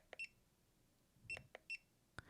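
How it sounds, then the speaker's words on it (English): A few short electronic beeps from a measuring device during an architectural site survey, in quick succession, then a pause and a couple more, fairly faint and isolated against a quiet background. "It beeps a couple of times."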